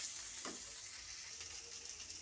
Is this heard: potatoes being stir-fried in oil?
yes